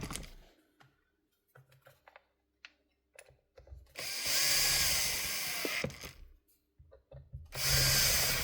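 A drill drives the handle screws back into an old Bosch GBH 5-40 DCE hammer drill in two bursts of whirring, separated by small clicks and handling noises, close up with no talking.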